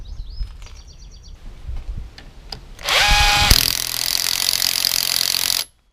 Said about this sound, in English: I'm going to spin it up with the nut gun.